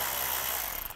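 A ratchet clicks rapidly in a brief, close burst while backing out T25 screws on a 2007-2013 Mini Cooper S during turbocharger replacement, with no talking.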